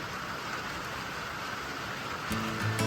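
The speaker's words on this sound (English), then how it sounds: "Pouring down rain on us." Steady pouring rain falls at an outdoor building site where concrete forms are being set for a shed, making a constant dense hiss with a faint low rumble joining near the end.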